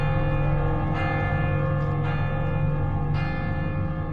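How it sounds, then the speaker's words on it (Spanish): Distant church bells from French villages toll in slow single strikes about a second apart over a steady droning hum, with no voices. "A lo lejos podemos oír las campanas de Viviers, Mondol, Carfantin y Baguères-Morvan."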